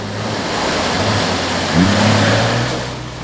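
A 4WD vehicle pushes through a water-filled bog hole, with a steady engine drone under constant splashing and sloshing water, loud and close, and a brief engine rise near the end.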